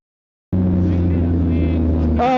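A motorcycle engine bursts in suddenly and holds a loud, close, steady drone. Near the end the pitch jumps as it revs up to about 4000 RPM.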